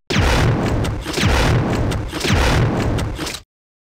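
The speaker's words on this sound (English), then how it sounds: "let's try the quick shot maneuver with grenade launcher" Grenade launcher rounds fired in rapid succession in Resident Evil 3: Nemesis, three heavy booming blasts in a regular rhythm, loud and close, then a cut to silence.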